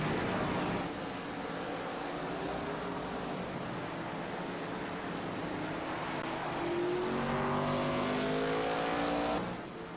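ARCA series race cars lap the Sonoma road course in a racing video game, with a steady engine drone throughout and the pitch climbing and sweeping upward near the end as the cars accelerate, with no talk.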